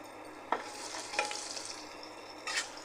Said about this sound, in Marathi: इथे मी शेंगदाणे घेतले ते टाकूया त्याला तळून घेऊया